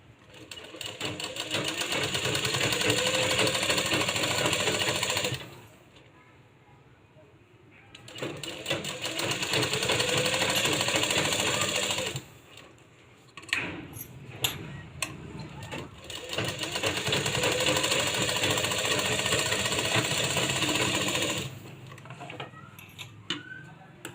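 A sewing machine stitches a baby's bunny-ear cap in three sustained runs of several seconds each, separated by pauses with faint handling noises and low speech.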